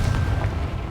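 A Confringo explosive spell from Hogwarts Legacy goes off as a deep, rumbling boom that fills the short moment with sustained low-end roar.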